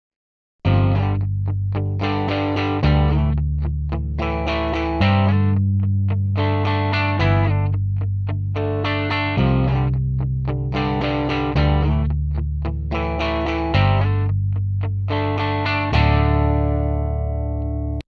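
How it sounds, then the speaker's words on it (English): A distorted electric guitar plays a chugging, repeating riff over a steady, deep bass line heard dry with the Line 6 bass amp switched off, loud and even throughout with no voices. "let's turn off the Line 6 bass amp and hear this bass line under the guitar riff"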